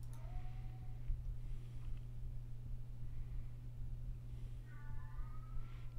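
A cat meows faintly in the distance a few times, short rising and falling cries over a steady low mains hum and background hiss.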